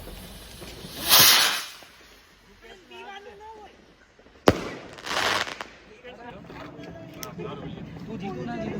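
Diwali firecrackers set off in London give two loud hissing, rushing bursts a few seconds apart, the second opening with a sharp crack, while people talk nearby.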